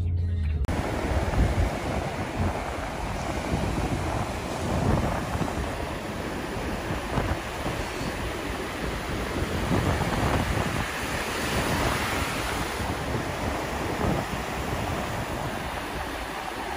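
Surf and wind on Esperance Beach, a continuous loud wash of breaking waves mixed with gusty wind buffeting the microphone, with no voices.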